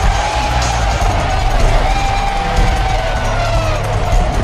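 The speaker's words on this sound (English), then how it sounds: "The crowd stands up, they cheer, they emit energy." A basketball crowd at a Rochester vs NYU game roars and cheers in a steady, loud wash of voices and whoops that holds without a break for the whole stretch.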